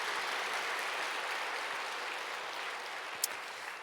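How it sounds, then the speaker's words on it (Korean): A church congregation claps together in praise at a Sunday worship service, a steady wash of applause that holds at an even, moderate level for several seconds before tapering slightly. "하나님께 감사와 영광의 박수를 드리겠습니다."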